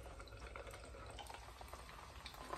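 An egg fries in a generous pool of bacon fat, giving a steady, close crackle and sizzle with faint spits, continuous and unbroken with no voices over it.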